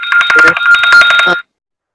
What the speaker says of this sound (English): Oops, I forgot to shut off my phone.